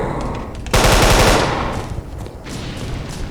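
Gunfire from the video game Dead Earth bursts in loud and dense, a rapid automatic volley that fades into a lingering rumble of game noise, with no talking over it.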